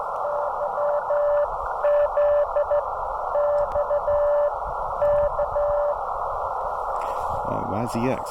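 Morse code comes through an Elecraft KX2 radio as bursts of steady beeps in clear dot-and-dash rhythm over static hiss. The keying stops near the end and a brief voice follows.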